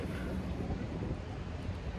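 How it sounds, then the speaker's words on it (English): Gusty wind buffets the microphone, a low rumbling roar that rises and falls unevenly, with no clear voices. "Kind of windy out today."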